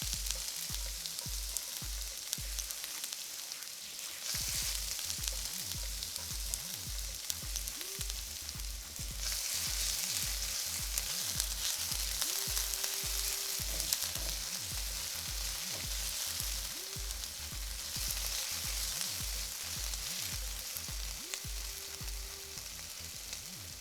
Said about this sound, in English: Let them pop, let them sizzle.